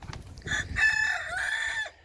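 Chickens on a family farm, a rooster letting out one full, close crow that lasts nearly two seconds, with scattered hens clucking around it.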